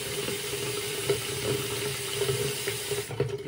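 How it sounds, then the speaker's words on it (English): Warm tap water runs steadily into a bathroom sink while someone wets their face, a continuous close splashing flow that eases off near the end. "So first I'm going to wet my face with some warm water."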